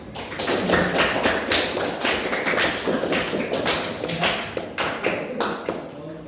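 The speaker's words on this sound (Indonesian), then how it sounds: "kita kasih tepuk tangan untuk diri kita semua" Year 7 students in a classroom at an Indonesian Islamic junior high school clap their hands together, producing a dense, irregular patter of claps that lasts several seconds.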